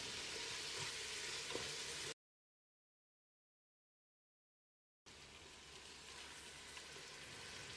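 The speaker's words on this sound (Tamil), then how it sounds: "1/2 டீஸ்பூன் உப்பையும் சேர்த்து தக்காளியை மசிகிற அளவுக்கு வதக்கிடலாம்" Tomatoes with salt sizzle and crackle steadily in a hot pan while cooking Ambur mutton biryani, the frying sound briefly cutting to silence midway before resuming.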